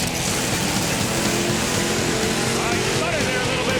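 A drag racing car launches down the strip with a dense, loud, continuous engine roar that stutters slightly early on, heard over crowd and commentary noise.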